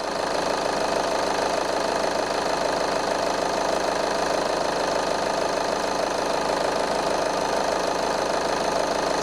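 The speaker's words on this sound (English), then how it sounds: "I'm going to force the compressor on and off with the power probe." A Skoda Octavia engine idles steadily and loudly at close range while the A/C compressor is forced on and off, a continuous even drone with faint rhythmic knocking underneath.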